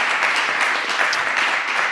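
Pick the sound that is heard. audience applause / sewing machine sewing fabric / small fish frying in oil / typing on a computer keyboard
audience applause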